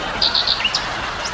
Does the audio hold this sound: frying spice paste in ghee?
no